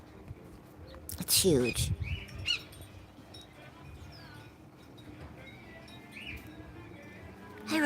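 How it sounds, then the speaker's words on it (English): A bird calls outdoors in California during an unusually warm spell: a few short chirps and squeaks, fairly faint and mixed with background noise and a brief spoken remark. "What kind of bird makes that sound, guys?"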